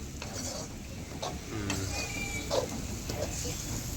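Delhi-style chicken curry gravy bubbles and sizzles in a pot with a soft, steady simmer, with occasional stirring clinks and people talking nearby.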